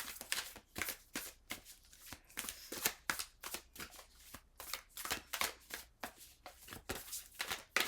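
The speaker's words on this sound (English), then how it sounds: "Let's get 5 cards for Pisces." Tarot cards being shuffled and drawn, a steady run of close, crisp riffling and slapping card sounds with no talk over them.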